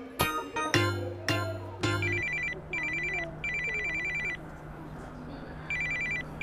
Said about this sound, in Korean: 뭐 광수한테 전화해봐